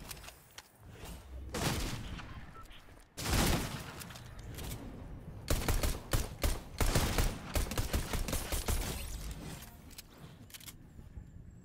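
Rapid bursts of gunfire in the Fortnite video game, with a loud volley early on and dense, stuttering shots crowding the second half, fairly close and sustained.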